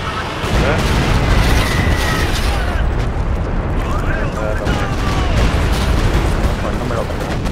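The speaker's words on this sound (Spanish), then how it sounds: "Cuidado, ha disparado cohetes encima tuya, los tanques." Rocket barrage from tanks in Company of Heroes 2 sounds as a dense, continuous wall of booming explosions and rumbling impacts, loud throughout, with occasional whistling streaks over the battle din.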